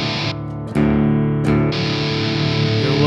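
An electric guitar played through a Boss Metal Zone distortion pedal rings out in thick, saturated chords with brief pauses between strums, loud and close with no talking.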